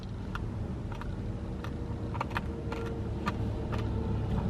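Steady road traffic rumbles in the background, with faint clicks and ticks scattered over the continuous low hum.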